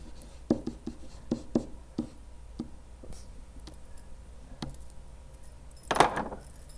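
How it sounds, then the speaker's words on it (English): Writing on a board during a math lesson on intercepts, with scattered soft taps and scratchy strokes at close range and a louder scrape near the end, with no talking. "I'm going to write it down here."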